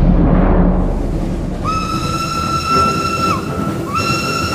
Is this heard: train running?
yes